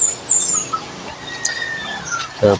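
Young chicks peep in short, high, scattered chirps, faint and intermittent, with a brief louder rustle or thump at the end.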